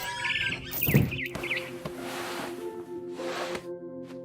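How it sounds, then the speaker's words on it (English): A barn swallow chirps outside a window in the video game What Remains of Edith Finch, giving a few quick high tweets early on over a steady ambient game background with low hum and soft rustling. "Then I heard chirping outside my window. It was a barn swallow going back to her nest."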